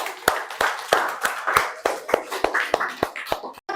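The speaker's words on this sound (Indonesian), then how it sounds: "Silakan kasih aplaus." A classroom of students claps in applause, a run of sharp, uneven hand claps at close range that carries steadily for several seconds with no talking over it.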